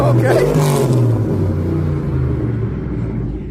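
Trucks pull out at a truck show ride out, a close, loud engine rumble with a rising rev that gradually eases, as people talk and call out over it.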